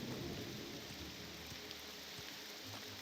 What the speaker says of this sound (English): It's raining and the sky's scary